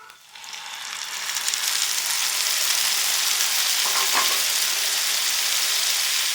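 Chicken pieces fry in a pan with softened chopped onion, giving a loud, steady sizzle that swells in the first moments and then holds at an even crackling hiss, with a faint scrape of stirring.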